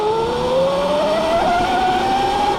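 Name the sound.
Surron electric dirt bike drivetrain under load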